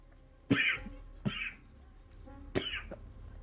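Three separate coughs, the first two close together and a third after a pause, fairly close and moderate in volume against a quiet room during a tabletop role-playing session.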